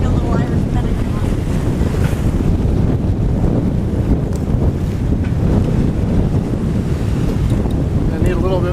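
Strong wind of about 30 knots roars across a sailboat at sea under reefed sails near Gibraltar, a steady loud rushing buffet with microphone wind noise and wave wash throughout, no pauses.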